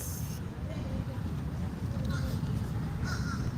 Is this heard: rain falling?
no